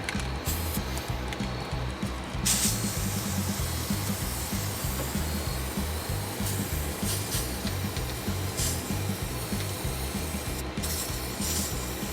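Spray paint hisses steadily onto a foam Halloween headstone through a vinyl stencil. The spray is close and continuous, with only brief pauses in the hiss.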